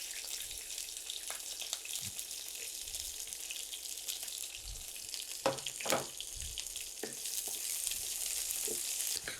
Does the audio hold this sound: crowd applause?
no